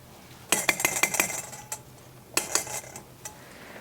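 A metal spoon scrapes and clinks against a dish while spreading topping onto mini apple pies, in two short close bursts of rapid clicks with no one speaking.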